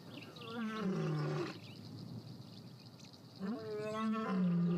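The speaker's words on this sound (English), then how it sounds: "He's responding, sending out a powerful roar." A male lion roars in the wild, with two long, deep, powerful bellows separated by a brief lull, close and loud over a faint background hum.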